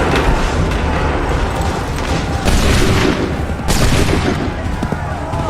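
Musket volleys in Assassin's Creed 3 boom in loud, heavy bursts, a couple of sharp massed discharges standing out over constant battle din, with shouted voices mixed in.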